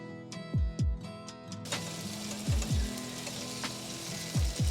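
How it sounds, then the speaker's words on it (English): Tofu fries in a hot pan with a steady sizzle, broken by several sharp clicks and taps of a utensil against the pan in small bursts, close and fairly quiet, with no one speaking. "the little bit of frying, it sort of helps brings out more of the flavor of the tofu"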